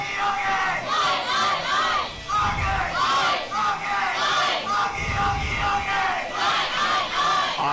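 Volleyball fans at a European youth championship bronze-medal match between Great Britain and Ukraine chant loudly in a rhythmic, repeating crowd cry, with swelling bursts of yelling filling the arena throughout.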